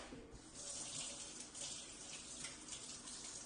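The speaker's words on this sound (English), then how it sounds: "I added 1 quart of water" Steady running water, about a quart, pours continuously into a soup pot, a broad rushing splash that holds at an even level throughout.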